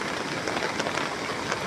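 Heavy rain falls steadily as a dense, even, full-band roar with no breaks, loud and close.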